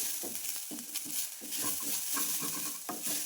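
Grated coconut, urad dal, cumin, green chili and coriander fry in a pan for temple-style pumpkin sambar, with a close, steady sizzle under repeated rhythmic stirring and scraping strokes.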